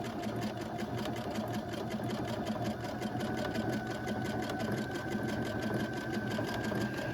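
Sewing machine stitching a decorative feather stitch in thicker thread on fabric backed with batting, running as a steady, continuous mechanical whir with fine rapid rhythm for the whole stretch, close and moderately quiet, no talking.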